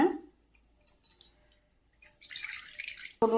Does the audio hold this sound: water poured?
yes